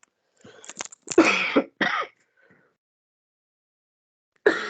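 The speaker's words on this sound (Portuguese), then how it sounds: "Um pouco de pigarro." A person clears their throat with a few rough, raspy bursts up close, followed by silence and then one more short throat sound.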